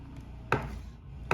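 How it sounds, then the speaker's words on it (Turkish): Two sharp knife chops cut through smoked beef with bay leaves on a board, close and distinct, spaced under a second apart, with no talking. "Bunu da birazcık doğruyorum."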